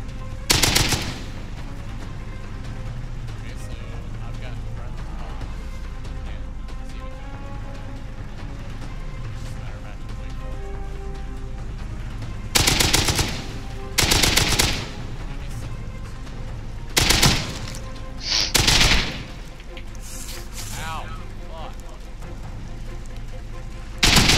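Music and game noise from the video game Rust run along, then several short bursts of AK assault rifle fire crackle loudly in separate volleys toward the end.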